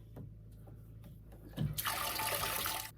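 Water pours into a canning pot on a stove while home-canning frozen corn in Alaska, a loud steady splashing rush that starts abruptly and runs for over a second before stopping.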